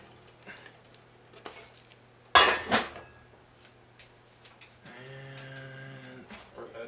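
A pita bread flipped in a pan on a stove top, giving one sharp clattering scrape of the pan, followed later by a steady low sizzle and hum, heard close with no talking.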